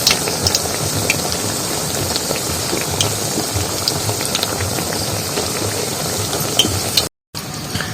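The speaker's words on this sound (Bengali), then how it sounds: "এগুলো কিন্তু আস্তে আস্তে একটু ভেজে নেব" Batter-coated helencha leaf pakoras frying slowly in oil, a loud continuous bubbling sizzle close by, broken by a brief silent gap near the end.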